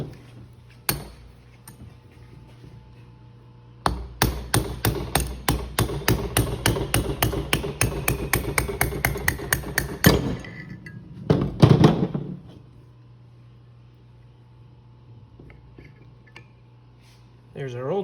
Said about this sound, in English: I'd prefer to use a brass punch just in case we hit something we're not supposed to